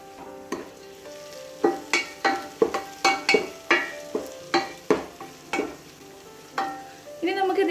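Onions sautéing in a pan for a bonda filling, with a steady sizzle and frying hiss broken by a dozen rhythmic spoon-stirring scrapes, close and fairly loud, with no talk.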